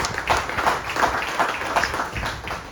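Applause from a gathered crowd at a golf course re-opening ceremony, a steady, moderately loud patter of many hands clapping close by, running without a break and with no talk over it.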